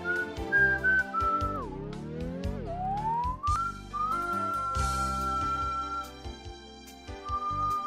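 A man whistles a tune, a clear, close, bright melody with sliding pitches and short rhythmic notes, heard alone.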